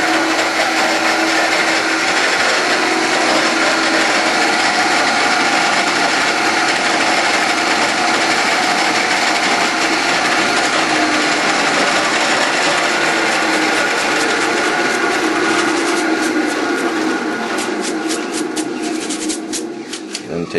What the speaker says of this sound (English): the first holes I drill in these will be just pilot holes